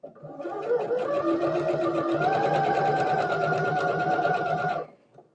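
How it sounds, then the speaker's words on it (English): Sewing machine running steadily for about five seconds, stitching around the edge of a chenille fabric leaf trivet, a continuous close whirring motor with rapid needle chatter that cuts off at the end. "all we're doing is stitching all the way around the leaf"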